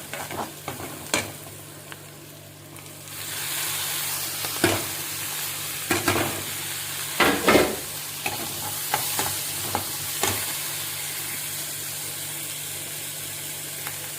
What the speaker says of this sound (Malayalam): ചെറുതായിട്ട് മഞ്ഞൾപ്പൊടി അതൊന്ന് വഴണ്ടുമ്പോൾ തക്കാളി ഇട്ട് കൊടുക്കും